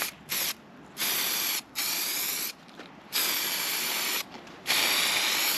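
A spray gun lays a coat of paint on a boat in repeated hissing bursts, four or five passes each lasting about a second, separated by short pauses, close and steady.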